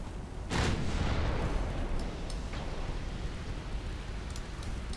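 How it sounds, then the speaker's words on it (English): A torpedo explodes in a 1900s-era naval battle in a French campaign strategy game, a loud broad blast near the half-second mark that rolls into a long rumbling tail with scattered fainter booms. "the torpedo exploded"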